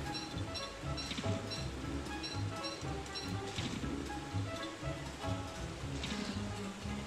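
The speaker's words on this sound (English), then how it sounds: "the rain is kind of pissing me off" Steady rain in the video game Don't Starve patters continuously and evenly at moderate level, a dense wash with faint talk murmuring underneath.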